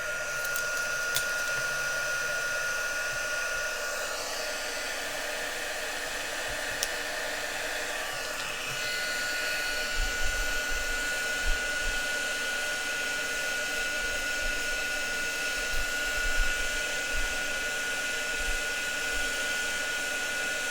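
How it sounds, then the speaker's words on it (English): An electric heat embossing tool blows with a steady, loud whooshing hum for the whole stretch, with faint handling noises underneath. "So I'm going to fetch in my heat tool. I'm going to switch it on."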